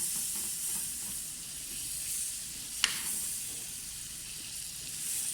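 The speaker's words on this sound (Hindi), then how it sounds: "ये मैंने 2 खाने का चम्मच लिया है बटर। इसको हम अच्छे से मेल्ट करेंगे।" Two tablespoons of butter melt over a low flame in a pan for a Turkish omelet, giving a steady, faint sizzle and hiss with a single small tick partway through, and no voices.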